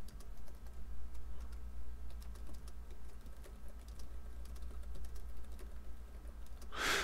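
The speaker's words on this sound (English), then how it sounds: "what we're going to do is just type in some basic" Steady typing on a computer keyboard while entering text in the WordPress visual editor, a continuous close run of quick key clicks over a low electrical hum, ending with a brief louder noise.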